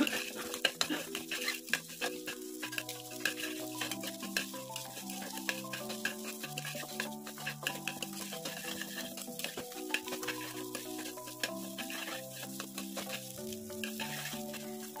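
Crushed lima beans deep-fry in oil in a pan for a village-style curry, a soft continuous sizzle broken by scraping stirs, with melodic background music playing over it throughout.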